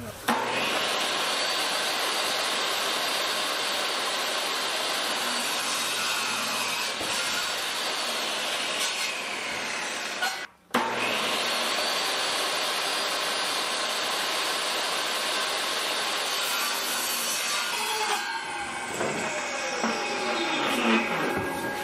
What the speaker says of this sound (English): I guess I'm going to rip it down to 1 inch by 1 inch